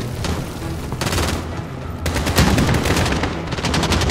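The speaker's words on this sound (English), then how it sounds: "they have a sniper somewhere. I don't know where, but they have... I can hear its bullets missing." Heavy gunfire from the Call of Duty: Modern Warfare video game, including sniper shots, comes as loud, dense bursts and booms that go on through the whole stretch with no voices.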